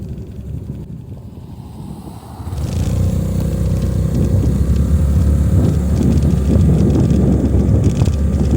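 A Honda Navi motorcycle rides along a road in Calgary: quiet wind rumble at first, then a steady, louder low engine and road drone builds and holds, with no voices.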